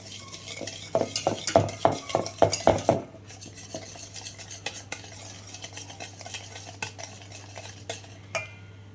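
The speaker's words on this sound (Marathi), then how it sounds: "त्यामध्ये आपलं आता तेल टाकून घ्यायचं आहे शंभर ग्राम त्याला पण छानपैकी एकत्र करून घ्यायचं आहे" A spoon briskly beats a hundred grams of oil into homemade cake batter in a bowl, a quick run of rhythmic sticky slaps and taps that then gives way to softer, slower mixing strokes.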